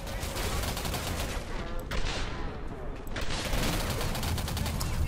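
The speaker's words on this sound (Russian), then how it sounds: "Я не хочу так долго стрелять." Sustained rapid automatic fire from the player's weapon in the shooter game Singularity, loud and continuous throughout with dense crackling shots and little pause.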